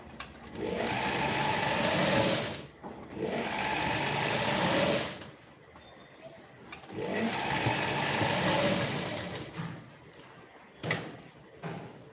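A sewing machine stitching lace along the edge of a blouse whirs in three sustained runs of a few seconds each, separated by quiet pauses and small handling clicks.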